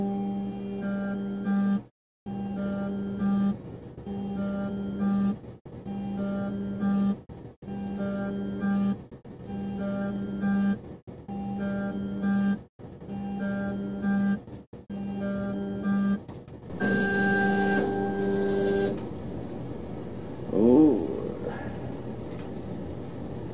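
A Chinese K40 laser engraver cutting 3mm and 5mm hardwood runs close by as a steady hum, broken by regular short gaps between passes, before a louder burst and brief settling noise at the end.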